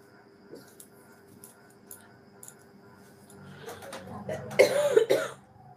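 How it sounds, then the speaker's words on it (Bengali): Quiet rustling and faint sounds, then a short burst of dry, hacking coughs close by near the end. "খুসখুসে কাশি, খুসখুসে কাশি হয়ে গেছে"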